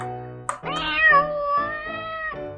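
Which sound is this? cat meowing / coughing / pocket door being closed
cat meowing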